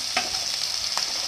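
Onions frying in a pan, finely chopped and cooked with salt, with a steady soft sizzle and two short scraping stirs near the start and just before one second.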